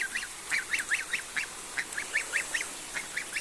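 Geese honk in quick repeated nasal calls, a rhythmic series of bursts close by with quiet moments between, heard alone without talk.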